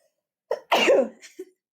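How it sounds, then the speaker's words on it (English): A single sneeze close by, a short sharp burst with a quick intake before it and a small trailing noise after. "I'm about to sneeze, I think."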